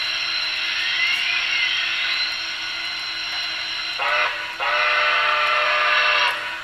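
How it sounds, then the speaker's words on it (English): A Broadway Limited sound decoder in a model ATSF Berkshire T1a steam locomotive blows a sustained chime whistle, loud and steady, then breaks off briefly and sounds again in a long second blast. "it switches over to the different whistle"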